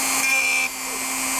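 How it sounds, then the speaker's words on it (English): Dremel rotary tool grinding a die-cast part for a 1928 Ford Model A, a brief high whine that cuts off abruptly and leaves a low steady hum. "I'm going to use my Dremel. And all I do is I come in with my Dremel, and I'm going to make some noise now"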